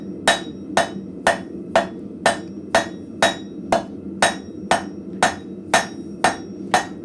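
A blacksmith pounds hot scrap metal into a leaf shape, a steady series of about fourteen sharp, ringing hammer strikes at an even rhythm, close and loud with no talking.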